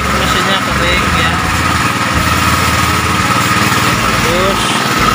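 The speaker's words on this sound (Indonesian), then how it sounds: "Ini mesinnya kering ya, Nick, mesinnya kering ya." A used pickup truck engine runs steadily nearby, a loud continuous idle drone with a rattly texture, while someone talks over it.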